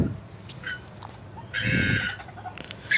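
Several purple swamphens squawk and cluck in harsh bursts while squabbling over food, with a loud scuffling outburst midway and another sharp call at the end, close by.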